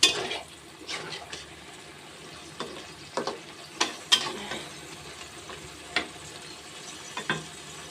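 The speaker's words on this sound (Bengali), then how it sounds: "আমি ছোটো মাছ রান্না করছি, বসাইছি, দেখি কি অবস্থা" Small fish curry with pointed gourd simmering in a pot: a faint, soft bubbling sizzle punctuated by several sharp spoon clinks and scrapes against the pot at irregular intervals, with no talking.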